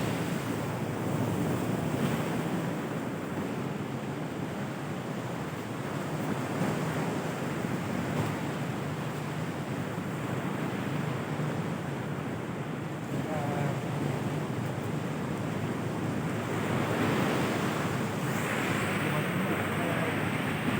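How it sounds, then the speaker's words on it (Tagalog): Strong ocean waves roar continuously with heavy surf off Nasugbu, Batangas, facing Fortune Island, and gusting wind buffeting the microphone, a dense, loud wash of sound throughout. "Malakas na yung alon."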